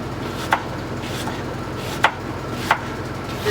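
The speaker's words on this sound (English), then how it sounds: "So I am also going to cut up" A knife cuts through an onion on a board, giving three crisp, separate chops spaced irregularly over a low steady background hum, with no talking.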